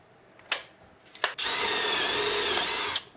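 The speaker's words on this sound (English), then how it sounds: "I drilled a little pilot hole" A twist drill bores a small pilot hole partway through a workpiece in a shop. Two sharp knocks come first, then the close, loud high whine of the drill runs for about a second and a half before stopping.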